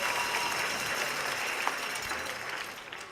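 A large crowd at a Kansas City Chiefs pep rally applauds steadily and loudly, with dense sustained clapping and cheering filling the space and no talk over it.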